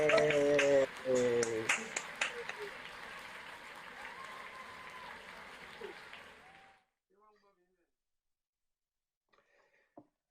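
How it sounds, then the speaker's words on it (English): Audience at an online graduation ceremony, University of London management department, unmuting to clap for fellow graduates; overlapping claps and a voice fade out after several seconds, leaving near silence with scattered faint sounds. "can you please unmute and applaud your fellow graduates"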